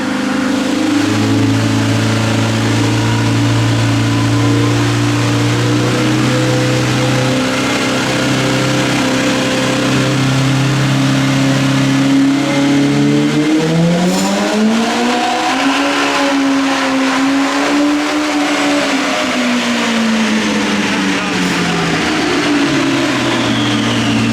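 Turbocharged engine of an Ibexx Turbo Pro R on a dyno, running at about five pounds of boost, droning loud and steady before the pitch climbs, peaks and falls under heavy throttle.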